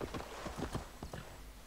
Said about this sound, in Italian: Vado col cavallo che faccio prima.